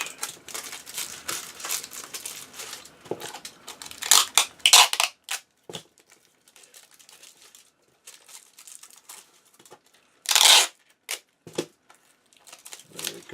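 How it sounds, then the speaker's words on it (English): Tape crackles and crinkles in sharp bursts as it is torn off, pulled and pressed over the edge of a homemade acrylic painting palette, close and fairly loud, with quiet gaps between bursts. "we'll just tape this over the edge."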